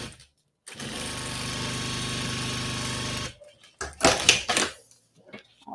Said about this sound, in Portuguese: Faço outra costura aqui.